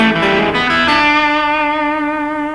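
An electric guitar plays a short blues lick with pull-offs, a quick run of notes ending on a held tone that rings out and slowly fades, with effect coloring and no talking.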